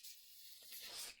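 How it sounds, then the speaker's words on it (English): Spray adhesive sprays from an old can during scarf sewing, a short faint hiss that sputters slightly and grows a little stronger before cutting off. "Use a little bit more spray adhesive."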